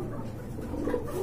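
Large Baghdadi pigeons, a male and a female pair kept at a bird market, make low, soft cooing that stays steady throughout, close by with faint background noise.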